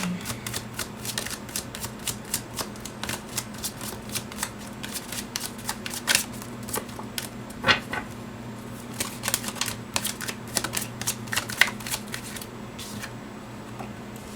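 Wild Unknown tarot and oracle cards are shuffled close up in a long run of quick, crisp riffling flutters and taps over a low steady hum.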